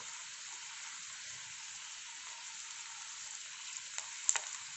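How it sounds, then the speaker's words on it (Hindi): Paneer pieces frying in hot oil give a steady, even sizzle with a brief clink near the end. "तेल हमारा गरम हो गया है, तो हम पनीर के पीसेस डाल देंगे और इसे फ्राई कर लेंगे"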